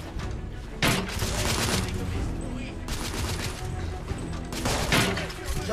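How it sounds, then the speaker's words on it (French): Suppressive gunfire in The Order: 1886, a dense, sustained barrage of shots with sharp bursts and crashing impacts, loud and continuous throughout, with a faint voice mixed underneath. "J'essuie des tirs de suppression."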